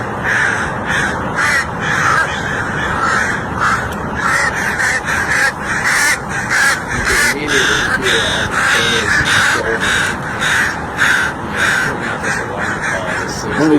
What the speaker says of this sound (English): see these crows respond so strongly